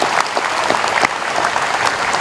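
Large gathering of civil servants at an outdoor morning assembly applauds together, a loud, close, steady patter of many hands with a few sharper individual claps standing out.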